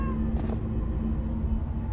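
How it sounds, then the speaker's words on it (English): A cat meows in the Minecraft: Story Mode video game, one short close meow over a steady low game hum and background music, with no talking. "I can't move the cat."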